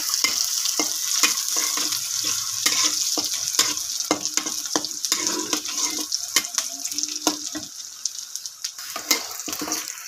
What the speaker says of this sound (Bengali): গরুর মাংসর পেঁয়াজগুলো একটু ভাজা ভাজা করতেছে।